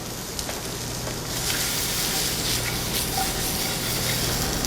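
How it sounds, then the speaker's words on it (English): Gnocchi sautéing in a pan with a little added fat, a steady close sizzle and hiss that grows louder after the first second and continues evenly, no talking. "So we're going to saute that."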